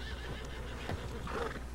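A short horse neigh from Red Dead Redemption, moderately loud and brief, heard over a constant low rumble of game background sound.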